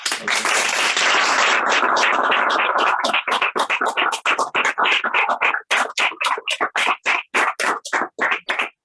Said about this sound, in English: So maybe applause.